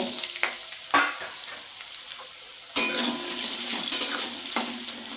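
Potato pieces frying in hot oil with dried red chillies, bay leaves and white cumin seeds, salt and a little turmeric added, giving a steady close sizzle broken by stirring scrapes and occasional utensil knocks against the pan.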